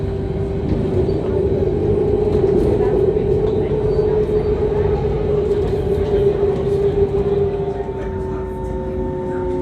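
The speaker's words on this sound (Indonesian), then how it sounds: "Nanti kita naik kereta itu loh." A train in Berlin, Germany rumbles steadily along the tracks, a loud continuous drone with a humming tone, heard from inside or close by.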